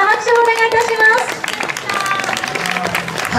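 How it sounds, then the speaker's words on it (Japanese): An audience at the 2019 Kiyose autumn community festival claps for kindergarten children who just performed a group dance. A voice speaks at the start, then a dense patter of many hands clapping takes over and continues steadily to the end. "今一度みんな拍手をお願いいたします。"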